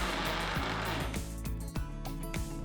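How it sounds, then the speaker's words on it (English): A mixer grinder runs steadily, blending tomatoes into a peanut mixture for chutney, its motor whirring loud and continuous with a rhythmic churning pulse throughout. "Now transfer the tomatoes to the jar and grind once again until it is all blended with the peanut mixture."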